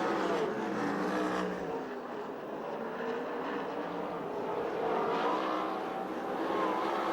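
USAC/CRA sprint cars race at Perris, California, their engines a loud, continuous high-revving roar that swells and eases as the pack circles the track.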